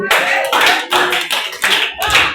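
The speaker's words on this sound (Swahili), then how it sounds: "Pigia Yesu makofi." A church congregation applauds for Jesus during a Christian teaching session, with loud bursts of group clapping coming in about five waves, close and full, without speech over it.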